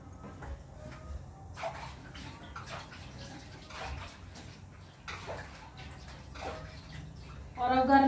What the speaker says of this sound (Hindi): तो गाइस मैं सोच रही बर्तन धो लूँ।